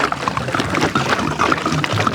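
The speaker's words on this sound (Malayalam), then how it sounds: "ഇതേ ആവശ്യത്തിനുള്ള വെള്ളം ഒഴിച്ചു കൊടുക്കട്ടെ" Water poured into a large cooking pot holding onions, beetroot, garlic and ginger for boiling down a big batch of tomato sauce, a steady close splashing gurgle throughout.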